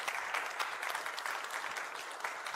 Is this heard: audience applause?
yes